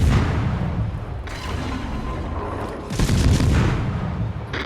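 Heavy ship guns firing in World of Warships, deep rumbling booms that swell and roll, with one stronger salvo partway through over a constant low naval battle din.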